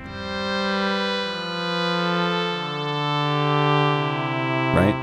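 A vintage analog-style synthesizer tone patched to imitate an oboe, with a soft attack and gentle release, sustains a few slowly shifting notes with buzzy harmonics, ending in a brief noisy burst.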